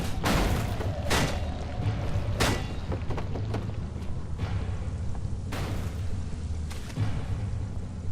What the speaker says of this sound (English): Now you can hear the worm actually being right behind me.